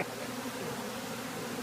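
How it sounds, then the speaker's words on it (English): A swarm of honey bees nesting in a bay window drones in a dense, steady buzz for under two seconds, close and fairly quiet with no voices. "There's just too many bees on it."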